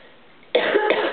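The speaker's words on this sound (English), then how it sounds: "Hairspray makes me cough." A single sharp, close cough from a woman, triggered by hairspray, a short burst with a second smaller catch at the end.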